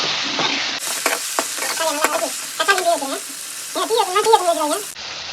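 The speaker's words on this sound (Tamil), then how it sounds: "வெங்காயம் நல்லா வதங்கிடுச்சு. இந்த மாதிரி தீய வச்சுக்காதீங்க. தக்காளி போட்டு இந்த மாதிரி தீய வச்சா தான் நல்லாயிருக்கும்." Onions and tomato sautéing in a pan, with a soft sizzle under repeated scraping and stirring strokes of a utensil, close and fairly loud, with no speech.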